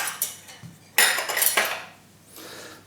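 A spoon clinks and scrapes against a dish holding a Philadelphia cream cheese and sugar mixture: a sharp tap, then a cluster of quick metallic knocks, and a softer scrape near the end, close and alone.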